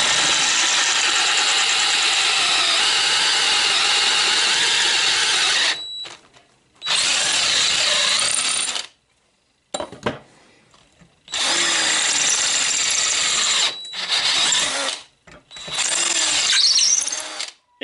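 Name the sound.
power drill boring holes with progressively larger drill bits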